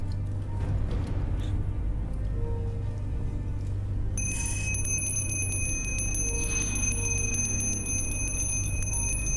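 A small hand bell rings with a bright, sustained metallic tone, starting partway through and lingering over a low steady hum.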